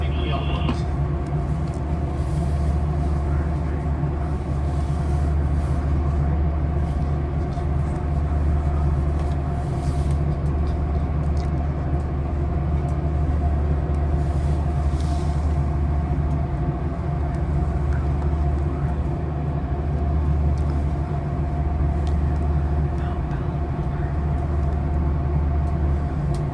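Inside a westbound Capitol Corridor passenger train, No. 543, travelling from Emeryville toward Santa Clara: a steady, loud low rumble of the carriage fills the whole stretch, with faint clicks and rattles on top.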